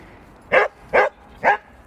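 Dogs at a dog park bark three times in an even rhythm, each bark sharp and clear, close by, with quiet gaps between them.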